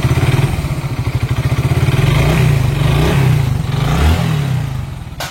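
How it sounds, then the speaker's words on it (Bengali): A Hero Glamour motorcycle, freshly overhauled after about 117,000 km, idles close by with a steady, even thumping engine beat and a slight rise in revs midway. "তো এই তো বাইকটির সাউন্ড শুনলেন।"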